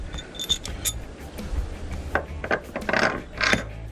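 Ratchet spanner clicking in short irregular bursts while a homemade bolt with washer and nut is tightened on a tilted Unimog camper cab, with metallic clinks, fairly close and no talk.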